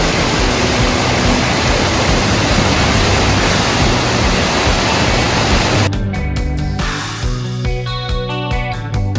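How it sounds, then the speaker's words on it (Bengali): A mountain waterfall near Darjeeling roars as a loud, steady wash of rushing water for about six seconds, then gives way to quieter mixed sounds. "রাস্তায় যেতে যেতেই দেখা পেলাম পাহাড়ি ঝর্ণার সাথে।"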